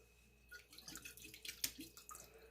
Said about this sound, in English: enough to swish it out.